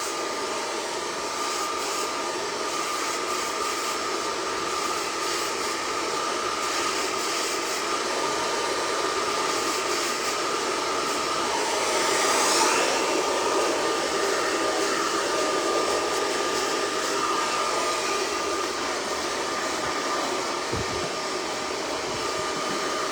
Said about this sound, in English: making sure you don't hurt her hair when I'm using an ionic blow dry